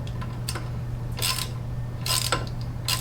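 A wrench turns and ratchets as a front suspension bolt on a 1963 Ford Falcon Futura hardtop is snugged down. Several short bursts of metallic clicking sit over a steady low hum, close and fairly loud.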